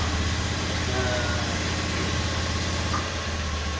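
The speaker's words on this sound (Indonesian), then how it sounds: "Motornya udah hidup." Honda Beat FI scooter engine idling just after starting, following a fault repair: a steady low rumble that stays near and even throughout, with no talk over it.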